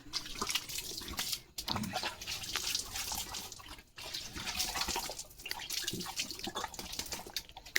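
Water hisses and splashes steadily from a hose pipe onto the base of plants, a continuous broadband spray with brief pauses as the flow shifts.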